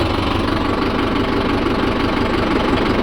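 A Mahindra Yuvo Tech+ 585 DI diesel tractor engine runs steadily in third gear, a loud, close, continuous chugging rumble with no pauses or speech.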